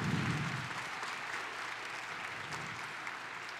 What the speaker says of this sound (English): Let's give Hannah a round of applause.